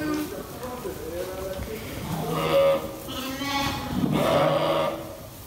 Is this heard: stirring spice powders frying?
no